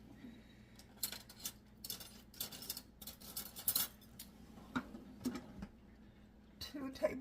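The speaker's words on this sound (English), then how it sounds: "I forgot to get a spoon out" Cutlery clinks and rattles in short bursts as a spoon is taken out in a home kitchen while nut butter and cereal power balls are made, a few sharp metallic chinks standing out near and fairly quiet.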